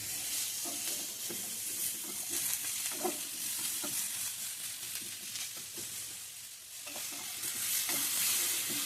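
Mushrooms sautéing in a little oil in a pan, giving a soft, continuous sizzle with occasional stirring scrapes; close but fairly quiet, with no voices.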